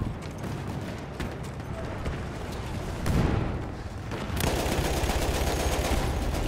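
Dense, continuous gunfire and booming explosions from a Battlefield 1 match fill the scene, a steady loud barrage that swells around the middle and stays heavy to the end.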